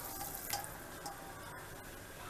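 Water poured into a pot of freekeh cooking with chicken, a soft continuous splashing stream with a faint sizzle underneath, close but quiet, with no talk over it.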